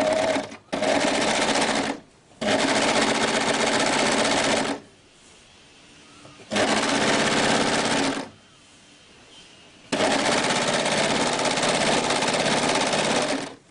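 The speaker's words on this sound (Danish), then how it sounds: "så laver jeg det trick igen med at vende med overlockeren og køre en lille smule tilbage" An overlocker sewing machine stitches a dress hem in long steady runs, its dense rapid whirring starting and stopping four times with short quiet pauses between bursts.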